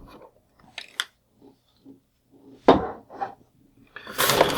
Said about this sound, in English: I like using these wire cutters for this because I hate these twisty ties. A couple of snips